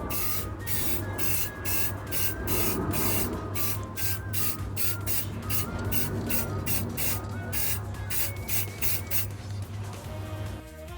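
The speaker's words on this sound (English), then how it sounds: "I started out with base coating the entire model in a black primer" Black primer base coat sprayed onto a junk-bot model from an aerosol can, close and loud, in a series of short hissing bursts with brief gaps, running steadily throughout.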